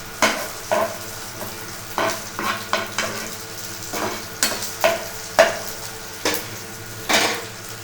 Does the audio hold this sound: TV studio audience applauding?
no